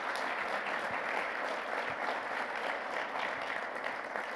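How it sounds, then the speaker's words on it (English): Quiet, even applause from an audience at a First Friday event in March, a soft, steady patter of many hands clapping at a distance, heard alone without talk. "If we could just give them a round of applause"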